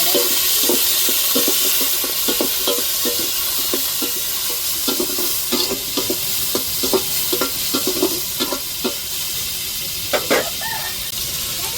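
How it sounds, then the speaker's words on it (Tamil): Brinjal and chillies sizzle in hot oil in a pan while being sautéed for a Tamil fish curry, with a steady frying hiss broken by repeated clacks and scrapes of a stirring spoon, close and without talk. "மிளகாய் கத்திரிக்காயெல்லாம் சேர்த்து நல்லா வதக்கி விட்டுருவோம்"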